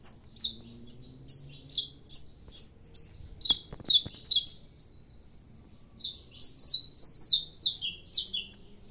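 Saffron finch (canário da terra) singing close by, a steady series of bright, high chirping phrases repeating in a quick regular rhythm, with a low background hum and a brief faint knock midway.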